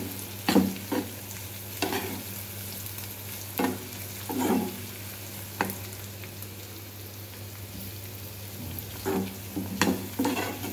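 A spoon scrapes and stirs an onion and egg curry with red chili in a pan, giving intermittent clacks and scrapes over a steady low sizzle, with no talking.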